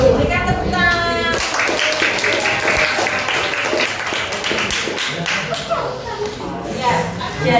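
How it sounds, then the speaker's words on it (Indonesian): A small group claps after a group presentation, with uneven, tapping hand claps close by, steady throughout and mixed with voices and a few thuds. "Berikan tepuk tangan."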